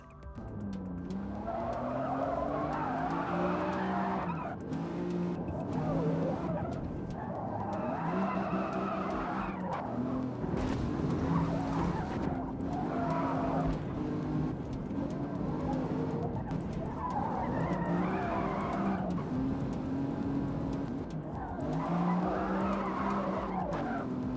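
Tires squeal in long, repeated wailing bursts as a car drifts through corners in the Forza Motorsport racing game, steady and loud over a constant engine drone for the whole stretch.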